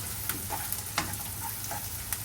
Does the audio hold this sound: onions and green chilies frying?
yes